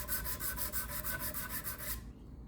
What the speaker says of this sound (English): I'm just going to gently sand this.